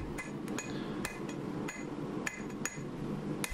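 A hammer strikes steel on an anvil while forging the tip of a hunting knife, giving sharp ringing blows at an uneven pace of roughly two per second, loud and close with no talk.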